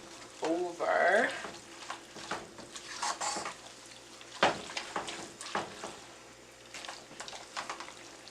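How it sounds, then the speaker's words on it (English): Shrimp alfredo sauce sizzles steadily in a pan while a utensil stirs and scrapes against it, with clinks of cutlery and pan, close and continuous. "you want to make sure you stir it so it goes all over."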